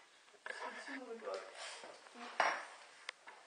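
Cooking pot handled while making vegetable soup, with clanks and scraping metal knocks, one louder bang midway, all mixed with ongoing speech.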